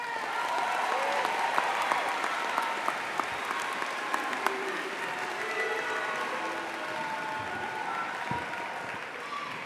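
Sustained applause from a graduation crowd at Brown Deer High School, a dense steady patter of many hands clapping throughout with a few sharper claps standing out, heard alone without talk.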